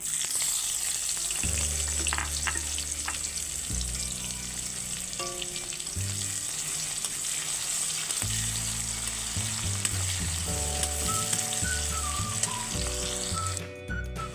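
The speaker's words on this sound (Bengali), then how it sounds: "এবারে দিয়ে দিচ্ছি পেঁয়াজ কুচি।" Chopped onion dropped into hot oil with nigella seeds and bay leaf for a potol curry, frying in a steady loud sizzle close by, with occasional stirring clinks and no voices.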